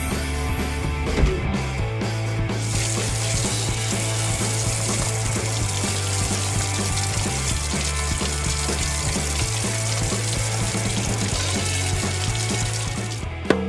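Water spraying onto a fire from a toy fire truck on a playground fire scene, a steady hissing rush that runs nearly continuously with no one talking.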